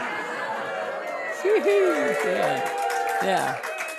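A rowdy group of course participants gathered together, with lively overlapping chatter, voices calling out and laughter filling a room in a constant busy murmur.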